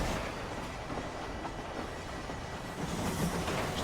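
A train rolls along the rails in Red Dead Redemption, a steady rumbling clatter of wheels that stays loud and continuous throughout, with a slight swell near the end.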